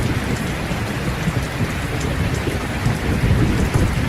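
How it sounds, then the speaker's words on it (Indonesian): Heavy nighttime rain pours over the city of Semarang, a dense continuous hiss of drops with a low rumbling thunder roll underneath, steady and loud throughout. "Sudah 2 hari hujan mengguyur kota Semarang."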